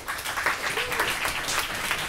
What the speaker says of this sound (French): Merci pour les applaudissements, très bien.